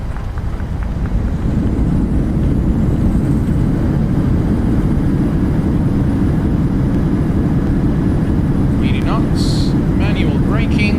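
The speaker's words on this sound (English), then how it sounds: "Reversers are out." A jet airliner's thrust reversers roar on landing at El Dorado International in Colombia in a flight simulator, a steady, loud, broadband rush of engine noise that holds throughout, with a few faint tones near the end.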